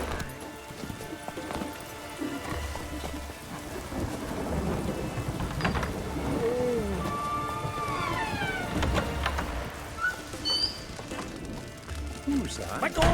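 Steady rain and low rolling thunder in The Witcher 3, a continuous wash of rainfall under game dialogue, with a horse's hooves clopping and occasional shouts and grunts.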